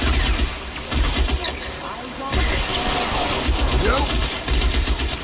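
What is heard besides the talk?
gunfire in the video game L.A. Noire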